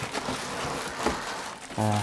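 Crinkling of a plastic bag and cardboard packaging being handled while unboxing a Levoit 36-inch tower fan, a continuous close rustle and crackle with a brief hum at the end.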